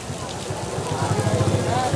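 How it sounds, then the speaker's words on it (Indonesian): Rain falls steadily on a fishing harbour parking area in front of a fish market, a dense broadband patter that stays fairly loud throughout, with a low rhythmic rumble and faint voices underneath. "Hujan teman-teman."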